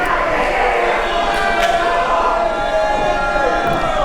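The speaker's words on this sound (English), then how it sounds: "the crowd goes full throttle for Oldman Youngboy" The crowd at a tag team wrestling title match roars steadily throughout, a sustained wash of cheering and shouting voices with a few sharp accents.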